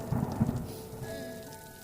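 Rain falls steadily with a low rumble of thunder near the start, and a faint tonal hum lingers in the background.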